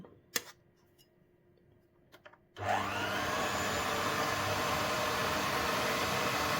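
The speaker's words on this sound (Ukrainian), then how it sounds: "якщо є міксер, то задійте його. Додаємо потрішку борошна та включаємо його на малі обороти" An electric mixer on low speed starts after a quiet pause and kneads dough as flour is added for cheese-filled buns, giving a steady, close whirring drone that runs unbroken to the end.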